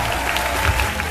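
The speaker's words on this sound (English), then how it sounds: "Round of applause, everyone." A corporate event audience breaks into applause, giving a loud, dense wash of clapping that runs briefly and steadily throughout.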